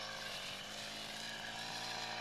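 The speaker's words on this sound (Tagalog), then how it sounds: "Nag-grass cutter din sila." A grass cutter runs close by as a steady, loud motor drone with a constant buzzing whine throughout, with no speech over it.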